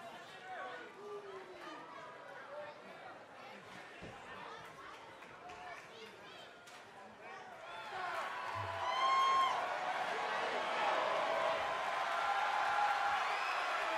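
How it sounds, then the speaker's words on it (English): A wrestling arena crowd at a WWE NXT event swells from background chatter into loud sustained cheering and whoops, with commentators talking over it. "Would you listen to this crowd?"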